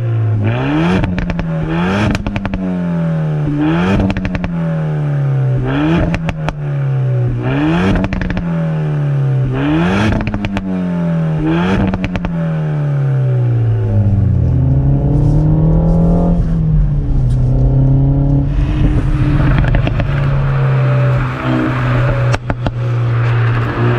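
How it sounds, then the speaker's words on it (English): Renault Megane RS Trophy 300 four-cylinder engine revving hard, a rhythmic series of rising pulls and quick drops repeated several times, then a longer sweep settling into a loud steady drone, close and alone. "it's a brilliant 4-cylinder unit. It's angry, it pulls very well, and it sounds pretty good as well."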